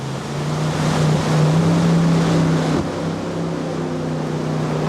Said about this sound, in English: BPA funding also helped pay for this jet boat, a custom design model especially built to handle the rugged rapids of the Salmon River.